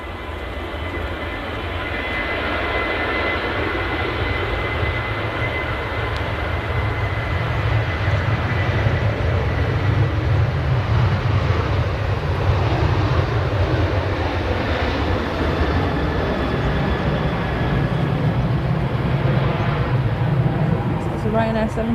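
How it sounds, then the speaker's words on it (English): A Ryanair Boeing 737 departs Manchester Airport in early-morning darkness, a steady, sustained engine roar holding at constant loudness throughout, with people talking nearby over it. "Ryanair 737 on the way to Madrid."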